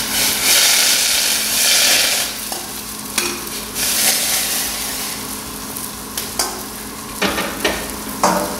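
A wooden spoon constantly stirs risotto in a hot pan as warm chicken stock is added a little at a time over raised heat, giving a steady close sizzle broken by repeated scraping and sloshing strokes.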